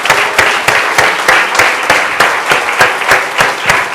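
A church congregation applauds loudly for the Lord during a service, with strong, rhythmic in-time clapping, sharp regular beats roughly three per second under a sustained crowd wash.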